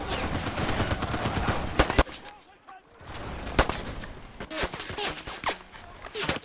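Sharp bursts of gunfire from the video game Enlisted crack out in rapid, uneven volleys, with a short lull partway through and a voice talking over parts of the shooting.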